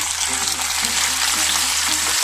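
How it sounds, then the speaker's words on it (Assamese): Local tomatoes frying in hot oil with salt and turmeric make a loud, continuous close sizzle, with light stirring underneath and no speech. "সোৱাদ অনুযায়ী নিমখ আৰু হালধি দি পেলাই ভাজি ল'ম"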